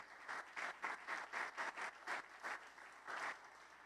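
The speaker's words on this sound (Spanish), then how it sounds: "Entonces démosle un aplauso a nuestro Dios." A congregation claps at a church service in a rhythmic, pulsing pattern of roughly ten bursts, faint and distant, with no voices over it.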